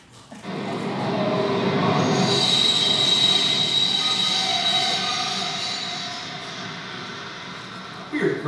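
A stage sound effect of a running train with loud, sustained squealing wheels and rumbling rail noise for a live comedy sketch, the high metallic squeal holding for several seconds before fading.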